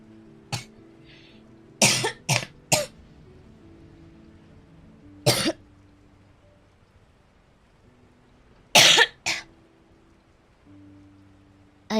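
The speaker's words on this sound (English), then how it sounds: "I have to mute every single time when I cough, or else it gets pretty nasty." Several sharp, separate coughs from one person in a quiet room: a single cough, a quick cluster of three, another lone cough, then a final pair, each loud against near silence.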